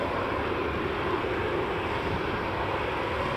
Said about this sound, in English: we've got one more EasyJet coming in